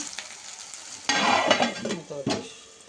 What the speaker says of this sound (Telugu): ఉల్లిపాయలు వేయాలి, కొంచెం కరివేపాకు వేయాలి. కలిపేసి